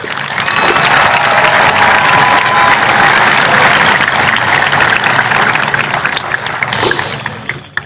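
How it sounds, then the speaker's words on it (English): Graduation ceremony audience at Woburn Memorial High School breaking into loud, sustained applause with a few faint cheers, steady for about seven seconds before tapering off at the end. "I think he deserves an overdue round of applause"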